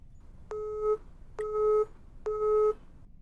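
A phone line gives a busy signal: three evenly spaced tone bursts, each about half a second long and separated by short gaps, clear and moderately loud over quiet hiss.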